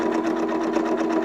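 A sewing machine stitches through leather in a steady, close, rapid mechanical chatter that holds constant throughout, with no talking.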